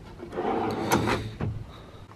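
A wooden drawer in a truck bed camping build slides open or shut, giving a short scraping, rumbling slide with a couple of soft knocks, close and alone.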